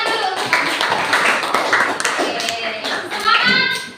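A classroom of students claps hands together in a dense, steady burst of applause that lasts throughout, loud and close, with young voices calling out over it near the end.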